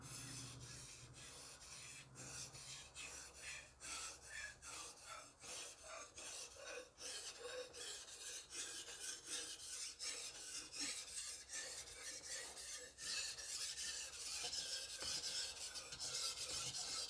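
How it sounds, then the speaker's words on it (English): A kitchen knife is sharpened on a 1000 grit wet stone in steady, repeated gritty strokes, a close, soft rasping scrape in even back-and-forth rhythm that goes on for the whole stretch with no talking. "So now this is the 1000 grit stone, and we're going to continue sharpening"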